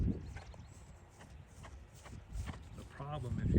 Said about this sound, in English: So all the horse has to do now is go between the standards